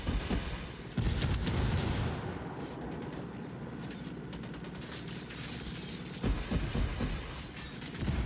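Heavy gunfire in the video game Ghost Recon Wildlands as a military unit fires on a cartel, booming bursts at the start and near the end with sustained rattling fire and echoing blasts between.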